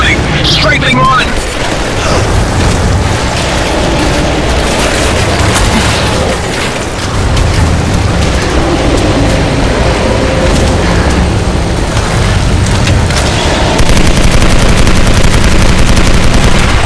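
Gunship strafing fire and explosions rattle nonstop through a video game battle against a Kraken, a dense, loud wall of rapid shots and booming blasts that fills the whole stretch.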